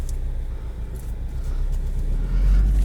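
A 2020 Subaru WRX STI with a short-throw manual shifter pulls away, giving a steady low engine rumble that swells slightly louder toward the end, with no talking.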